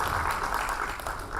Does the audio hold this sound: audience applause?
yes